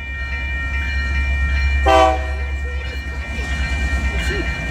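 A manifest freight train passes in Northern California, its horn sounding in one loud burst mid-pass over a steady low rumble of rolling cars and faint wheel clatter.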